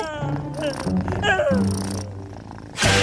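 A cat purrs in a low, continuous rumble up close while voices talk over it, ending in a sudden loud noisy burst.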